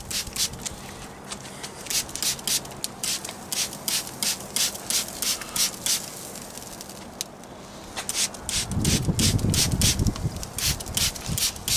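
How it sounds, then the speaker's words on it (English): Rapid repeated hissing bursts of a spray bottle, close, spraying liquid onto pork in a smoker, pumping in quick rhythm for several seconds with a brief lull, then rustling and low rumble. "Let's give these a spray"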